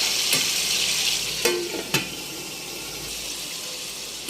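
Tomatoes cooking down in a pan, a steady broadband sizzle throughout with a few sharp clinks of a utensil against the pan near the start and middle, no voices.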